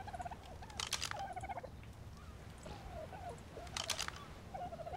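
Dodo birds in the video game Ark Survival Evolved make faint, bubbly gobbling calls that repeat in short bursts over a steady background hum.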